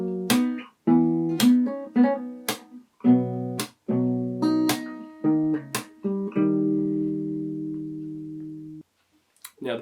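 Fingerstyle acoustic guitar plays the full verse of a song, with sharp percussive slaps between rhythmic chord plucks, then a long held final chord that fades out; close and clear with no voice.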